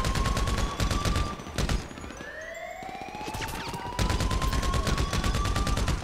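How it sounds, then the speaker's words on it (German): Rapid bursts of gunfire crackle in quick succession in GTA Online while a siren wails steadily underneath, loud and close, with no talking. "wo kommen die Schüsse her?"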